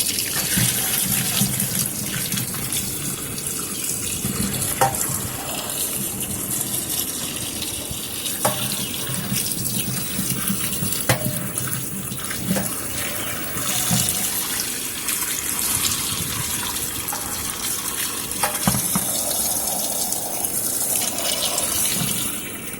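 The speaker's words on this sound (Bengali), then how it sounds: "আমলকিগুলো আমি ভালো করে ধুয়ে পরিষ্কার করে নেব" Indian gooseberries (amla) are washed under a running kitchen tap: a steady close gush of water splashing into a sink, with occasional clunks and rattles of fruit being handled, and no voices.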